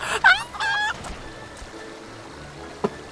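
A green-painted tamed rooster in Final Fantasy XIV gives a loud, close crow with a rising warble at the start, followed by quieter background game ambience and a brief soft click later.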